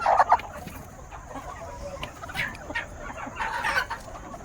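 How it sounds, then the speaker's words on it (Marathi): Hens sitting to lay eggs on a country poultry farm cluck softly and intermittently nearby, with a few sharper calls among low background noise. "हे अंडे देण्यासाठी बसलेल्या कोंबड्या येतात तिथं"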